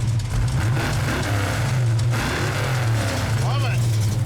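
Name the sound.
big block Mopar V8 engine starting up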